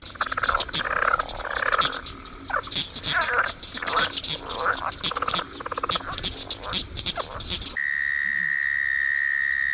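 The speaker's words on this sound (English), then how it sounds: "the very distinctive call of the barking tree frog, Hyla gratiosa." Barking tree frogs (Hyla gratiosa) call repeatedly in a dense chorus of hollow, barking notes, fairly loud and continuous, ending abruptly into a steady tone.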